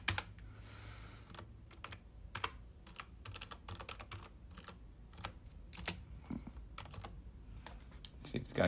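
Quick clicky keystrokes on a computer keyboard come in irregular bursts and single taps over a steady low background hum, close and fairly quiet.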